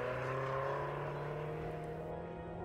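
Mazda Miata race cars on a track, a steady engine drone with a rising pitch that slowly fades as the cars pass and pull away, fairly faint and distant.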